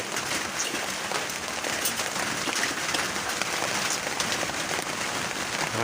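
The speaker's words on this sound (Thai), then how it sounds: "ฝนตกนะครับผม" Steady rain falls as a dense, even hiss of drops on surfaces, continuous throughout with no speech over it.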